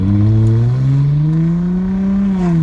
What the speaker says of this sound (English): I want you guys to hear this exhaust